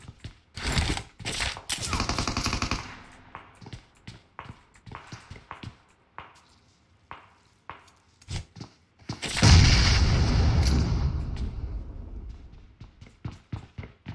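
A grenade goes off in PUBG Mobile with a loud, long booming blast that rolls on for a few seconds, set among scattered sharp gunshots and clattering impacts before and after.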